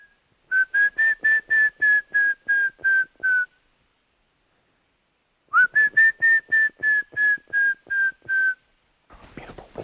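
A person whistles an imitation of a streak-chested antpitta call: two runs of evenly spaced, clear notes, rising slightly and then gently falling, with a pause between the runs. The whistles are close and loud, and a brief rustle follows.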